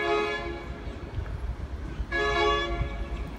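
A passenger train departs a station platform at Gosford, Sydney, rumbling along the rails with a steady low roar, its horn sounding sustained tones that drop off and return partway through.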